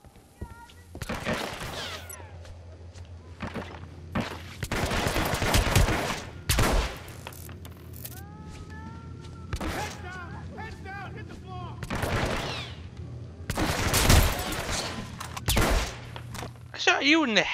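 Hitman Absolution video game gunfire erupts in repeated loud volleys of sharp shots and rapid bursts, separated by brief lulls, with voices talking between and over the shooting.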